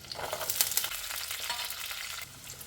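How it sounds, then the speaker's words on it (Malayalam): Chopped onion frying in hot coconut oil in a pan for a snake gourd and prawn curry, a continuous near sizzle with stirring clinks and scrapes, no talk. "ഇനി അതിലേക്ക് ഒരു ചെറിയ സവാള അരിഞ്ഞതിടാം"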